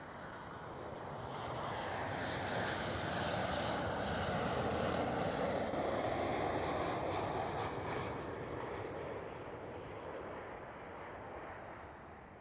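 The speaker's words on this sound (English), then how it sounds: "737-800 Transavia" A Transavia Boeing 737-800 jet flies past at Schiphol, its distant engine roar swelling to a broad peak midway and then slowly fading away.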